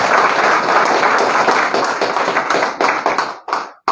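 An audience clapping together for a person being honoured at a company gathering, a dense loud burst of hand claps that thins into scattered claps and stops near the end.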